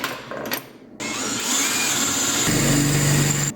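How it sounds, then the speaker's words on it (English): A power drill drilling out bolts whirs steadily at high speed for a few seconds, rising in pitch and strain, close up after a brief quieter start. "now I'll just drill out the bottom two."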